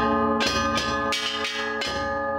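A loud festival bell struck in slow repeated hits, each tone lingering and overlapping, with a low taiko-style drum thump beneath, at a Japanese town festival procession.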